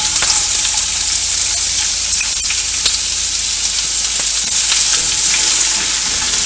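Chopped onion frying in a pan for a restaurant-style malai kofta gravy: a loud, steady, close sizzle that carries on without a break, with faint stirring scrapes and no talking.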